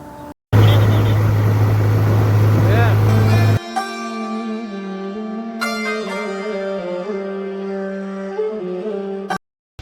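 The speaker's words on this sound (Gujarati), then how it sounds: "દાહોદ નીકળીએ હવે ટ્રેક્ટર લઈને" A tractor loaded with grass sets off on the road. Its engine first roars loud and rough, then drops to a steadier, tonal drone with slight shifts in pitch, and brief cuts break the sound near the start and end.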